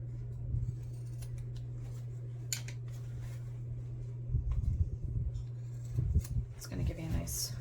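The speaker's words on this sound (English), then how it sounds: "in order to get like really nice corners, I just trim these corners down as much as you can" Scissors snip several times at fabric corners on a sewn bag, short crisp cuts over a steady low electrical hum, with a voice speaking quietly alongside.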